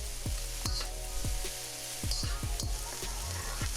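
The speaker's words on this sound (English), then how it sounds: "we're gonna let these onions cook until they are tender" Onions frying in a pan for a baby corn stir fry, a low steady sizzle punctuated by repeated spatula taps and scrapes, close and moderately loud with no voices.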